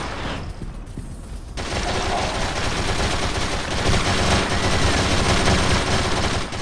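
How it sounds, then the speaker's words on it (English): Video game turrets open fire after a short quieter start, settling into dense, sustained rapid gunfire that stays loud and continuous to the end. "I guess A sets my turrets up."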